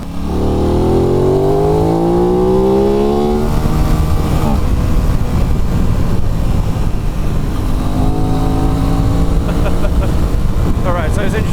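An Aprilia RS 660 sport motorcycle engine runs on the throttle while riding, its pitch rising and falling through rev sweeps, loud and close with rushing wind noise.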